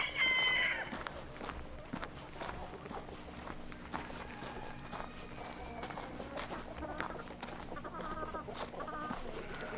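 Hens and a rooster cluck around a farmyard during chores, with footsteps shuffling and brief calls overlapping at a steady, moderate level throughout.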